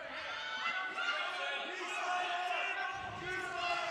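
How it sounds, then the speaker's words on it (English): Crowd noise from both benches on their feet at an NCAA college wrestling dual meet between Buffalo and Binghamton, a steady, dense roar of cheering and shouting that holds loud and unbroken throughout. "Both benches up on their feet, cheering on their wrestlers."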